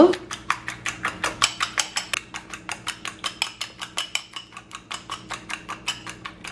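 Beaten eggs with fried onion and dried chillies are mixed in a bowl, giving quick, regular clinks of a utensil against the bowl, about five a second, close and steady throughout.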